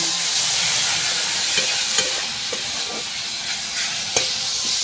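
Potato and pointed gourd pieces fry with salt, coriander and cumin powder for a rohu fish curry, a dense close sizzle with light intermittent stirring scrapes throughout and no talking.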